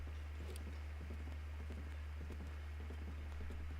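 Horse hooves clip-clop in a steady, quick rhythm in the video game The Legend of Zelda: Breath of the Wild, faint and continuous over a constant low hum, with no voices.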